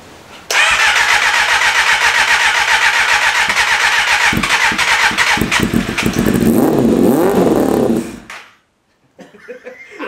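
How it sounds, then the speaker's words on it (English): A Kawasaki ZXR250 motorcycle engine under rebuild cranks and catches, roaring loudly and steadily for several seconds before cutting off abruptly, leaving brief quiet rustling. "Well, There you it go. runs."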